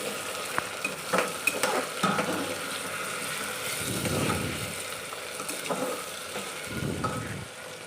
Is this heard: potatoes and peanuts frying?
yes